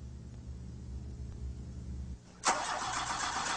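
A car engine is cranked over, a low, steady whirring churn that stops briefly before the engine catches with a sudden loud start and settles into a steady idle. No one speaks.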